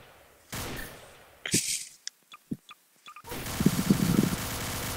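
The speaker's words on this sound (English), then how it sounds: "I'm gonna shoot it" Video game gunfire crackles in bursts of sharp, close shots with gaps between them, ending in a dense rattling volley, with a voice faintly in the background early on.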